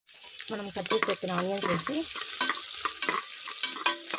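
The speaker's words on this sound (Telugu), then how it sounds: "బ్రౌనిష్ వచ్చే వరకు వేయించుకోవాలి" Chopped onions for a dhaba-style chana curry sizzle in a hot pan, with busy close-up crackling and quick scraping stirs throughout.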